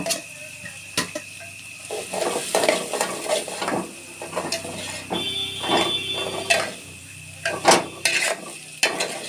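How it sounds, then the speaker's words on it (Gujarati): Cabbage and green garlic stirred in a hot pan, with an irregular run of clicking, scraping spoon strokes against the metal over a low sizzle, close by and without any talk. "ચાલો મિત્રો હવે એમાં નાખશું આપણે કોબી થોડુંક લીલું લસણ"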